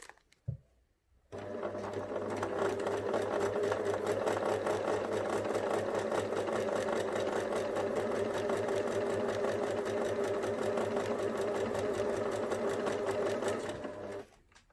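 A domestic sewing machine runs steadily, stitching forward along a fabric seam for a soft toy bunny, then pauses. The hum and needle chatter are close and even, and there is no talk.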